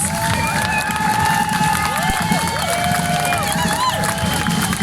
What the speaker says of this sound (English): let's just give a massive round of applause